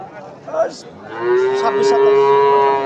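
A young calf moos at a rural cattle market, a long, loud, sustained call that follows a shorter low bellow, with crowd noise behind it.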